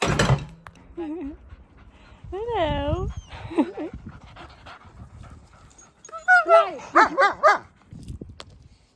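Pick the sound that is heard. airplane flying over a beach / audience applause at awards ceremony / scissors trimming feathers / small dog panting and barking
small dog panting and barking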